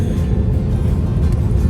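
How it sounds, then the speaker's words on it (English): A public bus travels along a road on Lanzarote, heading to Arrecife, with a steady loud engine drone and road rumble filling the whole stretch. "On a bus to Arrecife."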